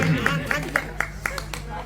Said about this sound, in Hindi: ताली बजाया करो।